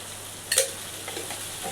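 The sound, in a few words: garlic ginger paste frying with onions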